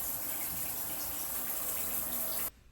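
Steady water from a shower runs without a break, even and close, then cuts off abruptly near the end.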